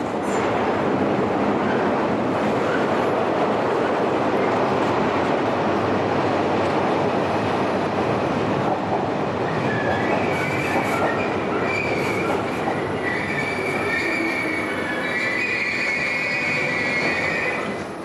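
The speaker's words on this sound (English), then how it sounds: "the fastest way to travel in this town is to go under it, on the subway" A subway train runs steadily underground with a loud, continuous rumble and rattle of wheels on rails, with some high metallic squeals in the later part. No one speaks.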